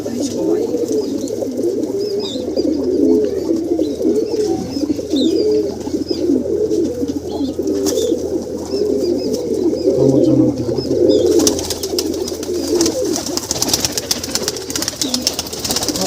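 Pigeons coo steadily and repeatedly in a low, rolling pattern, several birds overlapping nearby, with faint rustling and a brief scrape toward the end.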